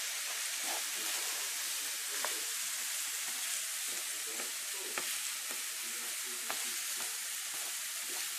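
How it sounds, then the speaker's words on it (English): Rice being toasted in a pan with onion and garlic for Mexican rice, giving a steady close sizzle and frying hiss with intermittent scraping stir strokes throughout. "You want to toast your rice along with the onion and the garlic."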